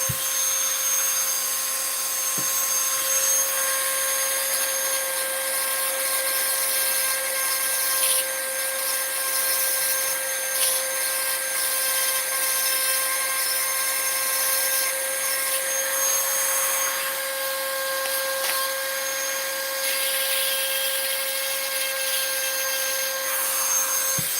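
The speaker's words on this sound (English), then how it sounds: "Hard to keep these things still. I'm trying to machine on it." Steady whining drone of a power tool machining a small part, running continuously at an even pitch throughout, close and fairly loud with faint clicks and handling noises underneath.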